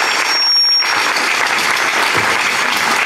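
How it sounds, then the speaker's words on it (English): An audience at a high school farewell program applauds the sophomores, a dense, loud, continuous wash of many hands clapping that holds steady throughout. "applause for our sophomores."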